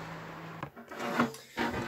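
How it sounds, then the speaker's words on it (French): Spark plug being unscrewed on a small gas-powered garden machine, close scraping and ratcheting rubs in short uneven strokes, with no talking. "On va dévisser la bougie."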